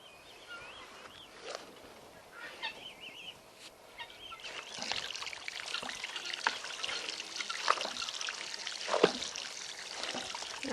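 Water pours and trickles into a bird water container on a small farm, a soft dribble that grows louder and splashier midway, with occasional brighter splashes near the end.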